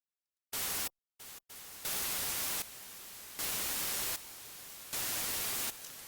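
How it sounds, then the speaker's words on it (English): A Bitwig synth noise patch gated on and off by a classic square-wave LFO, bursts of bright hiss switching abruptly between loud and quieter levels in a steady alternating rhythm after a few short initial blips. "here's a classic LFO with a square wave"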